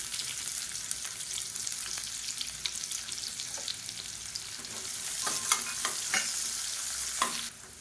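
Finely chopped onion added to hot oil with cumin seeds for an okra masala: a steady, hissing sizzle with occasional scraping stir strokes, close and moderately quiet, no voices.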